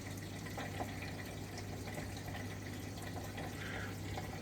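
Water runs from a tap in a home that has a Vaillant Ecotec Plus 831 combi boiler. It makes a quiet, steady hiss of flow over a low constant hum, with faint clicks in the background.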